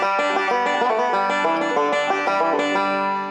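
A 5-string banjo plays a passage from a tune, bright plucked notes in a fast, even rolling pattern, close and clear, with no talking.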